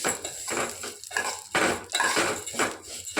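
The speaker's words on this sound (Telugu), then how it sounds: "ఇప్పుడు అదే ప్యాన్లో మన సేమ్యాలను కూడా వేసేసుకొని గోల్డెన్ కలర్ వచ్చేంత వరకు వేయించుకుందాం." Vermicelli roasting in ghee in a pan, heard as repeated metallic scraping and stirring strokes of a utensil against the pan in an uneven rhythm, fairly close, with no voices.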